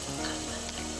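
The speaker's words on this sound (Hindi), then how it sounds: "देखिए नाज़रीन, हमारा मसाला पक के तैयार हो चुका है, ऑयल ऊपर आ चुका है।" Masala for chicken biryani frying in oil in a pot, a dense, close sizzle that holds steady for the whole second with no voices.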